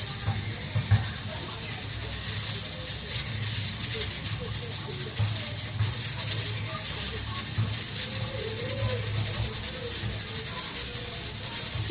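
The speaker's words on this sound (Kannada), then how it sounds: "ಮೂರು ವಿಸಿಲ್ ಕೂಗಿಸ್ತಾ ಇದ್ದೀನಿ." A pressure cooker hisses steadily as it vents steam while soya pulao cooks, a continuous broad hiss with a low rumbling undertone, close and even, with someone talking over it.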